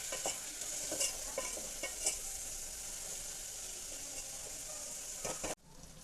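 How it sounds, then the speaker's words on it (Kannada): Chopped onion and tomato frying in a pan, a steady soft sizzle with a few scraping stirs near the start before the sound cuts off abruptly. "ಈರುಳ್ಳಿನ ಕಟ್ ಮಾಡಿಕೊಂಡು ಇದಕ್ಕೆ ಇವಾಗ ಹಾಕ್ಕೊಳ್ತಾ ಇದ್ದಾರೆ"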